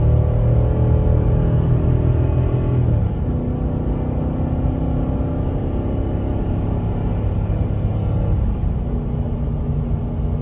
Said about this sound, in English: I just want to show a gentle acceleration with this load